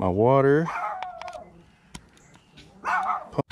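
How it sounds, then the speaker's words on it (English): Dog barking in the background of an indoor setup where an Airforce Texan air rifle's carbon fiber tank is being filled, a couple of short barks near the start and end, with a person talking over them. "Sorry about the dog in the background."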